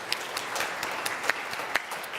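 Audience applause honoring more than 30 volunteers at a service gathering, a steady wash of many hands clapping throughout, with a few sharper individual claps standing out.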